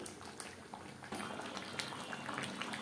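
Chicken simmers in a little water in a kadai, a soft, continuous bubbling with small pops that grows slightly livelier partway through, close and quiet with no talk.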